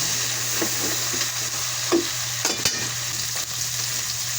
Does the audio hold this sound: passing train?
no